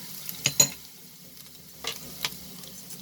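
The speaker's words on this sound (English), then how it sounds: "Saute the garlic." Chopped garlic sautéing in a pan for a chicken and broccoli stir fry, a soft steady sizzle with a few sharp spatula scrapes and clinks, close and fairly quiet, no talking.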